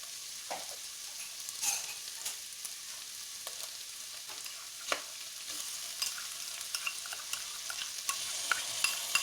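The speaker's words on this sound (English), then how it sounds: "in goes the ginger garlic paste" Ginger garlic paste sizzling softly in a pan, a faint, even hiss dotted with small pops and occasional scrapes of a spoon, fairly quiet and without talk.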